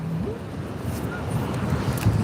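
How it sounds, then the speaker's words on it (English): Strong, cold wind of about 35 mph gusts at an outdoor fishing spot, buffeting the microphone with a steady, loud roar and no talk. "I don't know what kind of chance we have to catch one with this wind blowing the rods up and down like that."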